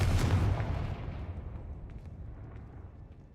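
The Confringo fire spell in Hogwarts Legacy lands as one booming blast with a deep rumbling burst up front, then trails off in a long fading crackle and decay.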